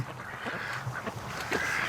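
Muscovy ducks give short honking, raspy calls over steady outdoor background noise, several close calls clustered near the start and another near the end.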